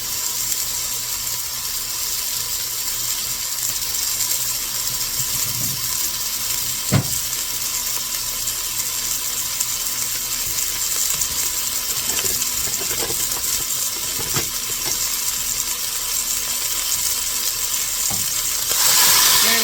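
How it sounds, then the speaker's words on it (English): A pound of ground hamburger meat fries in a pot, a steady broadband sizzle running the whole time with a few scattered stirring knocks and scrapes, loud and close with no talking. "1 pound of hamburger is going in my pot"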